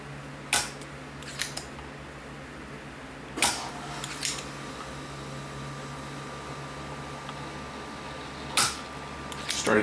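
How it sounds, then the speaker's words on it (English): A desoldering vacuum pump clears solder from holes on a BenQ monitor circuit board in an open garage, giving several sharp, isolated snaps spaced seconds apart over a faint steady hum. "so I can just plug the new parts in. I got to open up these ones here. I'll just use my vacuum tool to do this."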